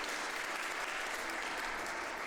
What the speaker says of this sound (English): Please give a round of applause here for her in just a bit